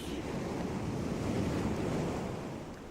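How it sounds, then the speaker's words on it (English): Sea waves in a radio drama: steady, broad surf wash with a windy hiss, fairly soft and continuous, swelling gently and easing toward the end, with no voices. "Listen to the sea."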